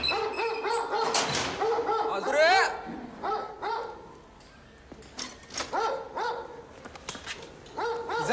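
A dog barks and yips repeatedly in a Beirut street scene, loud and close, interleaved with excited voices talking and shouting over it.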